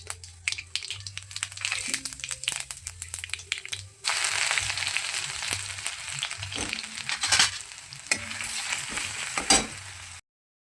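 Cumin and mustard seeds crackle and spatter in hot oil in a pan, a dense, continuous sizzle with sharp pops throughout and brief louder bursts, heard close up with no talking.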